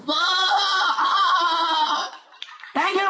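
A human voice imitates an angry male goat, a long loud trembling bleat followed by a brief pause and a second sharp bleat, close to the mic, with a little laughter mixed in.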